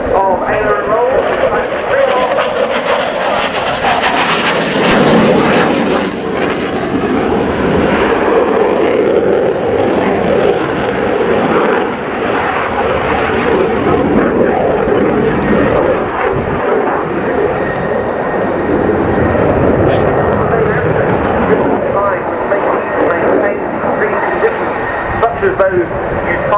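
A Swedish Air Force Saab JAS 39C Gripen fighter flies a display at the RIAT air show at Fairford, its loud, continuous jet roar filling the air while a commentator talks over it throughout.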